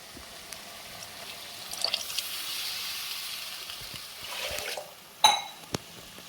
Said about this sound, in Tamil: அந்த மிக்சியை கழுவி நீங்கள் ஊற்றுனீங்களாவே போதும்